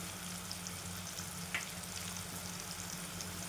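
Tomato fries in oil with hing, salt, red chilli and goda masala for Akkalkot-style aamti, giving a soft steady sizzle close by, one brief scrape of the spoon, and a clack at the very end.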